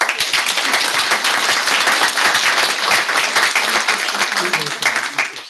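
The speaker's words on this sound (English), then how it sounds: "the speakers of the panel of the third round deserve an applause from us" A conference audience at a renewable energy event applauds the panel speakers with loud, dense, continuous clapping that runs the whole time and trails off briefly at the end.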